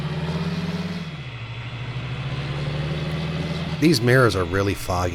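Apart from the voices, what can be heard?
tractor engine running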